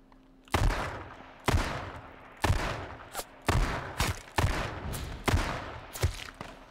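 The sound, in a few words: gunfire in a video game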